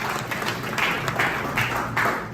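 An audience claps at a mentorship session, a moderately loud patter of many hands coming in uneven, rhythmic bursts.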